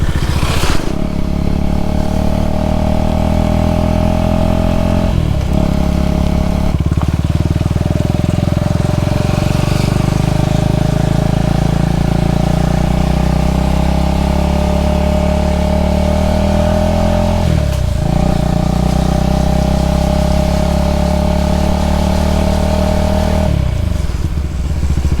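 A Husqvarna Vitpilen motorcycle engine drones steadily and loudly as the bike is ridden, with brief dips in revs between gear changes, heard close with no talking.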